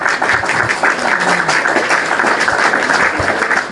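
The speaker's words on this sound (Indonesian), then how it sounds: "Tepuk tangan" Audience applause at a gathering, a dense, steady wash of clapping from many hands, close and loud throughout with no pause and no voice over it.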